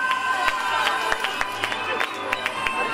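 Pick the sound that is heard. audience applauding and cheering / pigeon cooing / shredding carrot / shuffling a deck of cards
audience applauding and cheering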